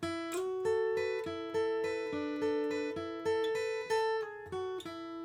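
A clean guitar riff, plucked notes in a steady rhythm, each note ringing briefly before the next, played alone and close.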